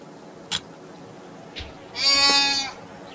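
A lone sheep gives one clear, drawn-out bleat at moderate distance, preceded by a couple of faint thumps against quiet outdoor background.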